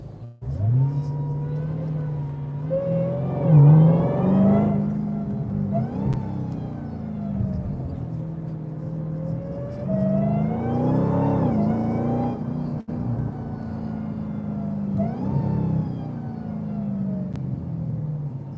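A loud, throaty Dodge Demon 170 muscle car engine revving and accelerating, its pitch rising and falling through several gear changes, heard from close by.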